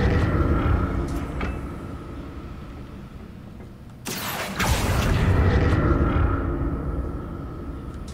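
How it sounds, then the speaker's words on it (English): A Confringo fire spell in Hogwarts Legacy bursts in one sharp blast midway, followed by a rolling, rumbling swell over low game ambience. "Confringo."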